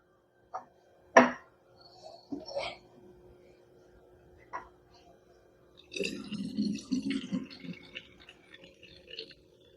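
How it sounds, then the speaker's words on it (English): Pineapple kombucha is poured into a bottle. A few close clinks and knocks come first, then a couple of seconds of near, bubbling, gurgling liquid, tapering off at the end. "Let's add the kombucha."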